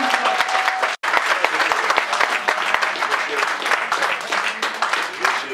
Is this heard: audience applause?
yes